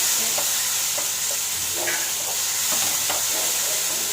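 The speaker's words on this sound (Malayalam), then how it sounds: "ഇനി തക്കാളി ഒന്ന് സോഫ്റ്റായി നന്നായിട്ടൊന്ന് വഴന്ന് വരുന്നവരെ നമുക്ക് ഇതുപോലെ ഒന്ന് ഇളക്കി കൊടുക്കാം" Tomatoes stirred and sautéed in a pan, a continuous close sizzle broken by several distinct spoon clinks and scrapes at an irregular rhythm, no talking.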